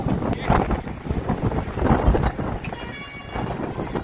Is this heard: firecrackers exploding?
no